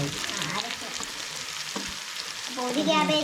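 Half a cabbage stir-fried in a hot pan for homemade fried rice, giving a continuous close sizzle with scraping stir sounds and a louder burst of frying near the end.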